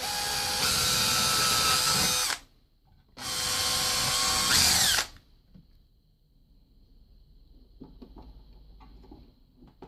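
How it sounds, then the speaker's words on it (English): A power drill drills out holes in a wooden dresser drawer during slide replacement: two loud sustained bursts of whining motor about two seconds each with a brief pause between, followed by quiet handling sounds. "So I'm just going to drill out those holes, and then we'll mount it with these."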